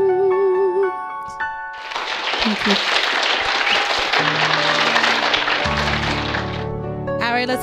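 Applause breaks out from the audience at an entertainment show after an R&B singer finishes a song. It is a broad, sustained wash of clapping lasting several seconds, with music and voices before and after.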